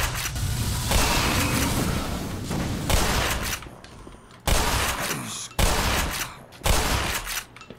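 A shotgun fires repeatedly in the video game Black Mesa, loud booming blasts in irregular succession, each followed by a short decay and a brief pause.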